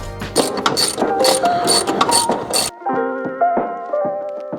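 A ratchet tightens a bolt on a brake master cylinder brace on a 2015-21 Subaru WRX/STI, giving a quick run of close, crisp clicking strokes followed by a few slower, separate clicks.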